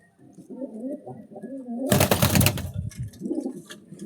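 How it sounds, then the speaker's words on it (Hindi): Pigeons coo in low, rolling phrases nearby, with a burst of broadband noise like fluttering wings partway through. "गिनती से 3 ही कबूतर पर्दार होंगे,"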